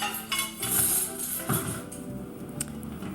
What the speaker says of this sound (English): put the dishes on the counter, one at a time, the same thing with the utensil holder